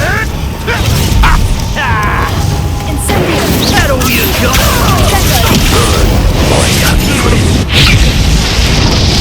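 Bombarda blasting spells in Hogwarts Legacy go off in loud booming bursts with crashing debris, layered over constant game noise, magical whooshes and shouted voices.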